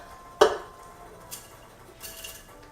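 Seared pork going into a crock pot: one sharp ceramic and metal clunk, followed by a few quieter knocks and scrapes in a home kitchen.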